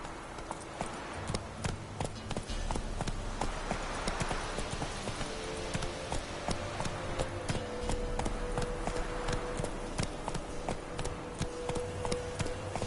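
Roach, a horse in The Witcher 3, gallops with rapid, steady hoof clops close by, continuing for over twelve seconds with faint background sound.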